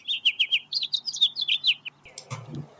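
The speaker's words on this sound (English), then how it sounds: "That's our house finch." House finch singing close by, a quick run of bright warbling chirps for about two seconds, followed by a brief rustle in an otherwise quiet setting.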